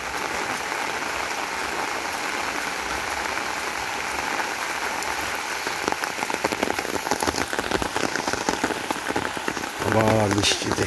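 Heavy autumn rain falls across village crop fields in Bangladesh, a constant dense patter that grows slightly rougher and splashier toward the end, with a brief low rumble near the close and no clear talk.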